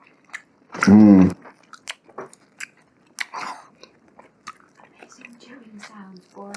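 Crunchy chewing of chicken wings coated in Tapatio hot sauce, with one loud close bite-and-chew burst early on followed by softer scattered chewing and mouth sounds, under intermittent talk.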